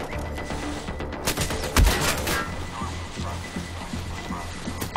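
Gunfire crackles in the Army of Two co-op video game, with scattered shots and one heavier impact near the middle, under game effects in a busy, moderately loud mix.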